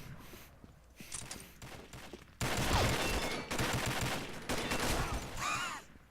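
Loud bursts of rapid game gunfire crackle and echo, rising to a sustained volley, with scattered impacts and a ricochet-like whine near the end.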